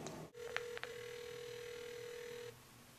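An internet phone call dialing through the iCall app on an iPod Touch 4G: a couple of short keypad beeps, then a steady ringback tone held for about two seconds before cutting off, quiet background hiss.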